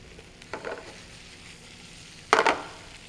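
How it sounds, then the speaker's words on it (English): Broccoli rabe drops into a pan of cooked golden garlic, setting off two short bursts of loud close sizzling and rustling with near quiet between them, no voices. "and then in goes the broccoli rabe"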